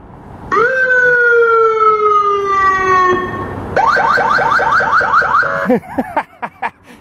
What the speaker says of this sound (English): A couple of boat speakers on the outside, any Android smartphone, and a free siren app.